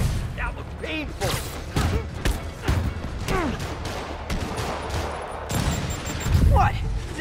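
Rockets fired in combat in Marvel's Spider-Man video game, a dense barrage of whooshing launches and explosive blasts layered over game music and effects.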